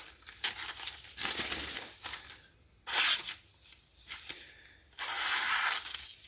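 A freshly sharpened knife slices into paper in separate bursts of dry tearing, scraping cuts. They come close and fairly loud, with quiet gaps between strokes.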